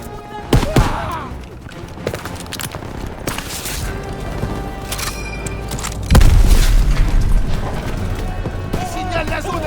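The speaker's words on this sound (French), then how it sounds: "L'artillerie va nous aider!" Artillery shells explode in the Call of Duty WWII video game amid gunfire, with deep booms and a heavy rumbling blast midway, loud under continuous battle noise and shouted voices.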